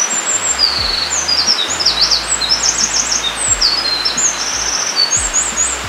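Wild bird calls ring out during a forest walk in northern Harima, Hyogo, in a mitsumata grove: repeated high, warbling phrases at moderate distance over a steady hiss of background noise and faint low thumps, with no talking.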